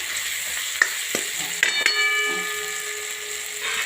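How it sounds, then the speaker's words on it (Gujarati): Ground spices roast in hot oil over a ginger and garlic tempering for a cowpea (chora) vegetable curry, giving a close, steady sizzle broken by a few sharp stirring clicks and scrapes. "મસાલા સરસ શેકી લઈશું"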